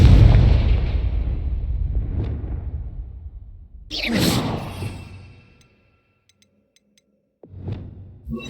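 Confringo blasting spell explosion in Hogwarts Legacy: a heavy rumbling blast fading out, then a sharp whooshing burst, silence, and another booming impact near the end.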